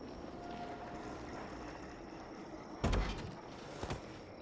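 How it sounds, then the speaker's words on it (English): A boat engine idles in neutral in the video game The Walking Dead, giving a steady low rumble throughout, broken by a sudden heavier knock near the end and a couple of smaller bumps after it. "Don't think those guys will be able to hear the engine all the way over here."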